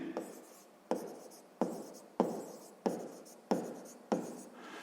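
Close pen strokes on paper while working a sixth-grade math exercise, seven brisk scratchy bursts in a steady rhythm in a quiet room.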